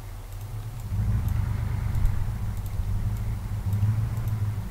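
Military vehicles rolling into formation in the Arma 3 Zeus game mode give a steady low engine rumble, moderately loud and continuous, with faint clicks above and no voices.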